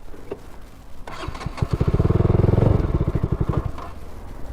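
A modified KTM RC200 motorcycle engine cranks and fires up, its exhaust popping in a rapid rhythmic burble that swells and then settles back, close and loud.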